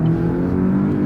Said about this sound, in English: Once it starts revving up, you wouldn't think it's a tiny little 4-cylinder engine.